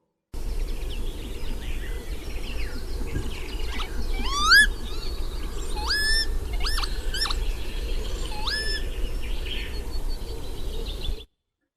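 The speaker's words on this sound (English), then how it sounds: "This bird is a lapwing, sometimes known as a peewit." Several rising, slurred wheezy calls of a lapwing (peewit) in Upper Teesdale, repeated at irregular intervals over a steady low wind-like rumble outdoors.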